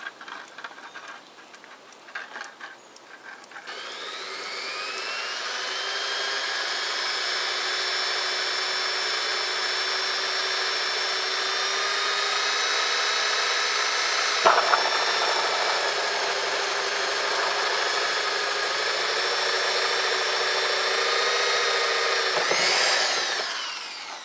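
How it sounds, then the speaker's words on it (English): A power drill bores a hole in a boat hull, whining steadily for a long stretch with a rising then sustained motor pitch, a brief bump midway, and grinding at the end. "I'm gonna drill this other hole"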